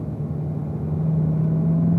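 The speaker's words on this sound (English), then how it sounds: "You should hear the rumble as you go by that curving." A race car crosses the curbing at turn 3 of the Spring Mountain track, with a steady close engine drone and a low, continuous rumble that builds slightly toward the end. No one speaks.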